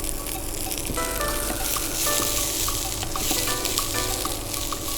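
Onion and tomato stir-fry in a hot pan with a loud, dense sizzle, with metallic clinks and scrapes of a utensil stirring through it, close up and continuous, no speech.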